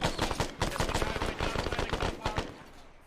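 Rapid bursts of automatic gunfire in the military shooter ArmA, loud and close, with dense overlapping shots that keep going for about three seconds and then briefly stop.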